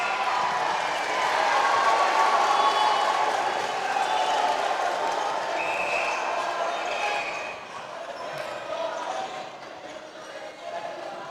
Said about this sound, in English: Huge sounds in the background are that Queensland crowd